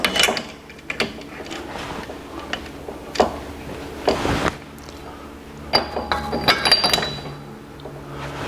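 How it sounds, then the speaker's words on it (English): A thrust washer and bearing fitted onto a Dana 300 transfer case shaft from a 1982 Jeep CJ7: scattered metallic clinks and taps, close by, with a few brief scraping handling noises between them. "Put a thrust washer on and put our bearing on."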